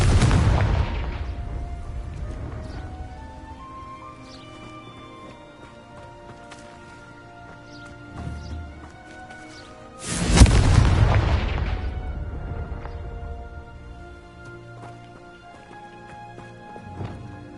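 Confringo blasting spell explosions in a video game, two big booming blasts, one at the start and one midway, each decaying into rumbling debris with ringing magical tones between.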